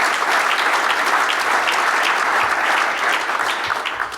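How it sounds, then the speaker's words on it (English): Banquet audience at the Hobey Baker award dinner gives sustained applause, a steady, full roar of clapping from a large room that stays loud for several seconds. "A round of applause for them"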